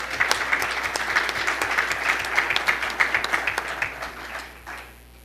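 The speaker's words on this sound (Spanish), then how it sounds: "Un aplauso, por favor." Audience applause at an open event on financial regulation in Mexico, brisk and fairly close, with individual claps standing out over a steady crowd wash before it thins and fades near the end.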